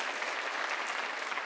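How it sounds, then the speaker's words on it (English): Audience at a school writers expo clapping, a brief dense burst of steady applause from a small indoor crowd. "Can we give a round of applause"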